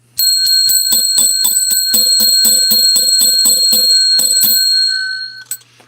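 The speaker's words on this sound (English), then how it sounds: "We got to ring the bell." A bell rung by a host gives a rapid, loud series of about fifteen bright metallic strikes in an even rhythm, with the ringing tone lingering before fading out, followed by a final small tap.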